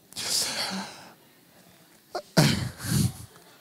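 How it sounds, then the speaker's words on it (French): A person lets out a single sharp sneeze, preceded by some quieter breathy noise and followed by a couple of short voiced sounds nearby. "Éternue, tranquille."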